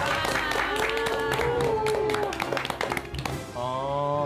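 A crowd breaks into applause, a burst of clapping mixed with cheering voices and bright tonal sounds, fading slightly near the end.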